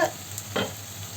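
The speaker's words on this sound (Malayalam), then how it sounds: "ഒന്ന് വാടി വരുന്നത് വരെ നന്നായി ഒന്ന് ഇളക്കി കൊടുക്കാം" Breadfruit and onions being stirred and fried in a pan with crushed chilli: two soft scraping bursts of stirring over a faint, steady sizzle, quiet and close.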